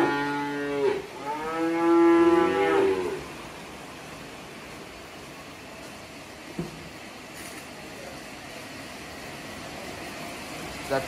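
Young male calves at a calf-rearing farm in Kediri, East Java, moo loudly in a drawn-out call early on, followed by quieter barn ambience with a few faint knocks and no talk.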